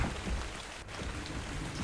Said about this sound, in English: Oh, I'm just having a look as it's raining.